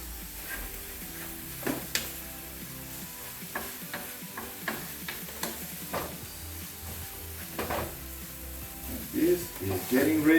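Eggs frying in a pan, a steady soft sizzle running throughout with occasional stirring clatter and brief utensil knocks near the pan.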